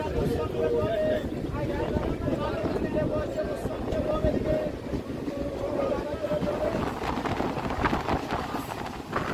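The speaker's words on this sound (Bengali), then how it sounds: "লেবুতলা থেকে ট্রেন ছেড়ে দিল।" A Hasnabad local train departs Lebutala station in the rainy season, rolling along with a steady, close rumble and rattling carriage noise, plus wind buffeting and occasional faint tones throughout.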